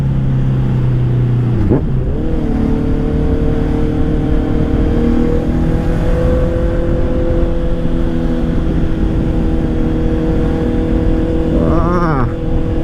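A taxi's loud exhaust while driving in third gear through town, a steady close droning engine roar that holds an even pitch with a brief shift near the start and a small rev at the end.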